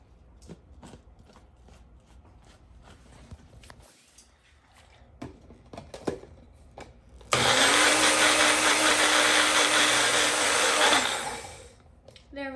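A kitchen blender purees tikka masala sauce thinned with a little added water, roaring loudly and steadily for about four seconds after some quieter handling clatter, then cutting off.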